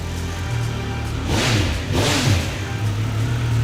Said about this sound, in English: we've got even more of that triple bark from the 1200 RS